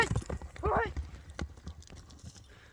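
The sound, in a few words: horse hooves clip-clopping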